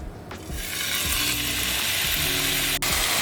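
A sirloin steak sizzles in a hot pan, a steady close hiss with faint clicking and scraping through it, no voices.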